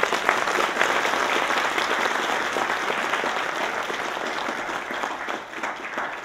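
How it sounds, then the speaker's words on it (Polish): Applause from an audience at a Polish awards gala, many people clapping steadily and close, holding strong for several seconds before tapering slightly toward the end. "Brawa, tak?"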